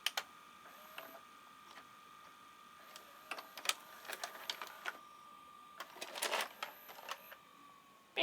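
An 1980s VCR's tape transport ejecting a cassette during a teardown: a series of quiet mechanical clicks, whirs and clunks from gears and motor, with a brief louder grinding rattle near the end, close and alone.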